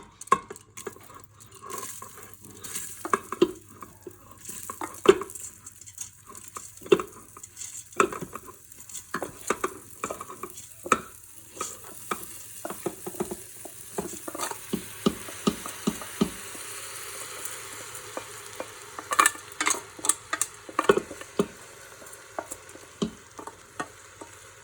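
Khichuri mix being stirred in an Instant Pot on sauté mode, with a steady sizzle under repeated scraping and clinking strokes of a spoon against the metal inner pot, close and moderately loud, with no talking.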